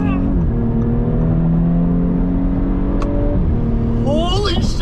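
Tuned Audi B9 S4 with Unitronic Stage 1+ tune, 454 hp, accelerating hard at speed, its engine note sustained and loud, then rising in pitch after a quick gear shift near the end; people inside the car talk over it.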